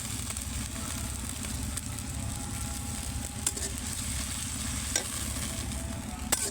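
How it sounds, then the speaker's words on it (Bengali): Ginger, garlic and cumin paste sizzles steadily in a pan with a constant frying hiss, punctuated by a few sharp clinks of stirring. "মশলাটা একটু ভাজা ভাজা করে"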